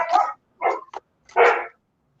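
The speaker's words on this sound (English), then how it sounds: "No, they're barking at the door." Dogs barking at the door as family members arrive home: three short, loud, close barks with brief gaps between them, heard clearly without talk.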